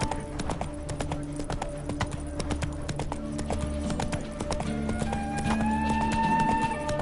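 A horse gallops in the Witcher 3 video game with a steady, loud clip-clop of hooves throughout, over a faint ambient background with some tonal music-like hum.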